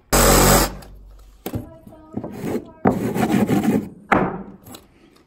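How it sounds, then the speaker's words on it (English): A reciprocating saw cuts through OSB flooring on an off-grid cabin build. It comes in loud, rasping bursts separated by short pauses, and the blade chatters harshly against the wood. "It's gotta be with the sawzall."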